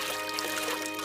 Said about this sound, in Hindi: एक बाल्टी पानी लेकर मीरा के ऊपर फेंक देती है